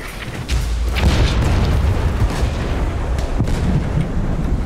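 Heavy ship cannon fire booms in the Blazing Sails pirate video game, deep rumbling blasts rolling one after another over a constant loud roar of battle noise.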